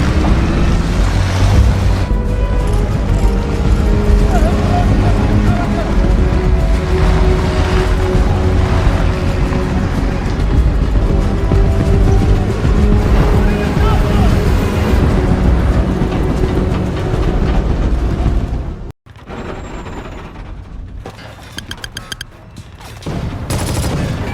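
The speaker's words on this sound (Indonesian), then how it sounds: "Konvoi kendaraan ini pun berangkat pada pukul 11:25 malam waktu setempat dari Newport menuju ke lokasi konflik." Military vehicle convoy pulling out at night from Newport toward a conflict zone, a loud, dense rumble of engines and clatter that runs steadily, then drops out abruptly before returning more thinly.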